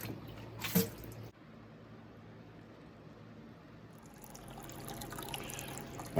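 A gold-panning pan is worked in water, giving soft swishing, trickling and dripping sounds that stay quiet and close, with a sharp clatter near the start.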